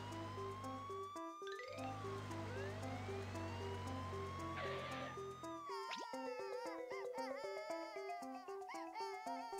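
A cartoon fire truck siren wails in a children's animated show, a bright two-tone electronic siren cycling steadily alongside playful boings and plops, with a sweeping musical whoosh in between.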